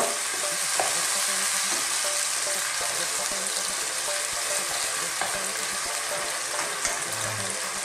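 Chopped tomatoes are sautéed and stirred in a pan, giving a dense, even sizzle with light spoon scrapes and clinks throughout and a low murmur near the end.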